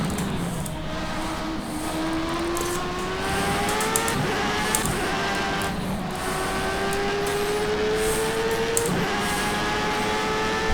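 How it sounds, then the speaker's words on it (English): A Jordan 191 Formula 1 car roars in the rFactor 2 racing game at Spa, its high-pitched engine whine climbing steadily through the gears with brief dips at each shift, loud and continuous throughout. "The sound of this car, man, really gives me goosebumps."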